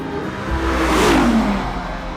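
A V10 sports car engine tuned for 610 horsepower revs hard through a loud exhaust, swelling and sweeping down in pitch as it passes close by, with no talk over it.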